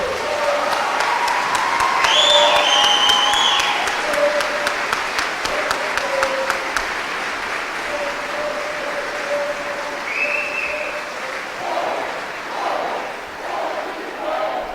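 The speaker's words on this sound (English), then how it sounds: "how about one final round of applause for our newest soldiers?" An audience at an army basic training graduation ceremony at Fort Sill claps in a sustained round of applause with scattered whoops and cheers. The clapping peaks early and then fades to a softer patter.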